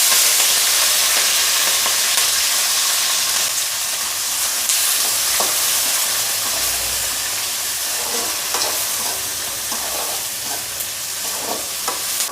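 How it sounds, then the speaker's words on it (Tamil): Tomato, onion and garlic sauté in a pan with a constant loud sizzle and hiss, broken by scattered scraping stirs and light clinks, close by with no talking. "இது தக்காளி வெங்காயம் பூண்டெல்லாம் வதங்கிடுது"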